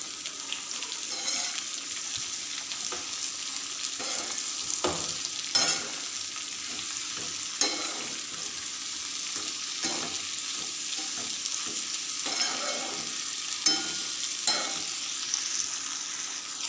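Chili slices and potatoes being stirred in a hot pan with salt, a steady bright sizzle of frying under repeated scraping and clattering strokes of a spoon, close and fairly loud, with no talking.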